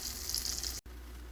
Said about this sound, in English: Now I'm cooking the tortillas.